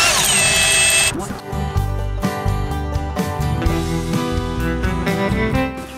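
A power tool whines sharply as it backs out bolts on an old tractor during a repair, giving a loud high rising run, then a stuttering burst of rapid impacts, with a voice talking in the background.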